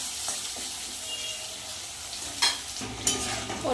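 Elephant foot yam frying in a pan, a steady bright sizzle with scraping stir sounds and a couple of sharper spatters near the end, no voices.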